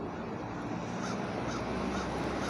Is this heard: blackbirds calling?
yes